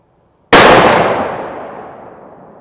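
A single loud, close gunshot from a Thompson Center Compass bolt-action rifle in .300 Win Mag, unsuppressed, with a sharp crack followed by a long rolling echo that decays over about two seconds.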